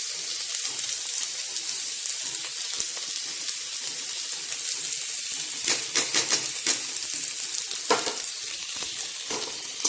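Masala spices frying in a pan for chicken curry with white gourd, a steady loud hissing sizzle with bursts of crackling and scraping as the mix is stirred, close and continuous with no talk.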